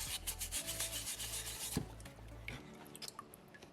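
Sandpaper is pressed under a thumb against a small soapstone orca carving, giving close, quiet rhythmic rubbing strokes that rasp back and forth and thin out toward the end.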